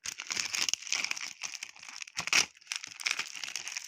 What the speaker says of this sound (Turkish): Benim paketi yırttım.